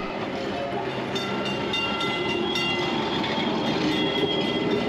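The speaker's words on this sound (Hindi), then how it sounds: "और जब मेरी दूसरी ट्राम आती है" An old tram arriving along a street in Kolkata, a steady loud rumble of wheels on rails with faint metallic clatter and squeaks, continuous over city background noise.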